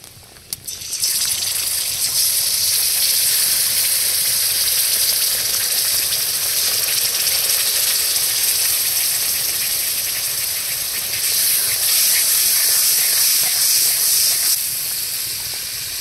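Plain sour yogurt hits a pan of red chilli powder and spices already fried down for a vegetarian paneer dish, setting off a loud, steady sizzle and hiss that lasts throughout, swelling slightly near the end, with no voices.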